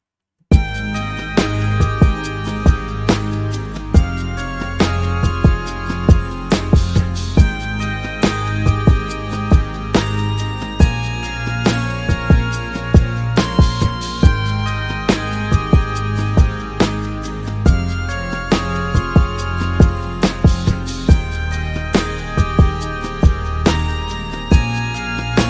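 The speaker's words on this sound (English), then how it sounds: "for the hook, I just added this extra drum pattern that sampled drum break I talked about before" A punchy R&B hook plays, with a sampled drum break hitting in a steady groove over acoustic guitar, synth bass and analog synth, loud and continuous throughout with no voices.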